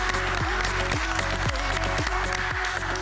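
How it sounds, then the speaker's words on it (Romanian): Audience applause during a fashion show of evening and summer outfits made from recycled materials, a steady wash of clapping from a crowd with faint voices and a rhythmic music beat running underneath. "Aplauze."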